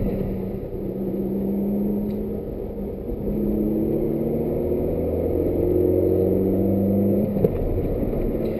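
A 2005 Suzuki Ignis Sport's 1.5L M15A VVT engine, still cold, revs up in a steady rising drone, pitch climbing over several seconds before dropping off sharply near the end.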